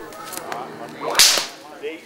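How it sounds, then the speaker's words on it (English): A single sharp whip crack at a heritage village country jubilee, loud and close, standing alone against a quiet outdoor background with faint scattered noises. "the sound of a cracking whip"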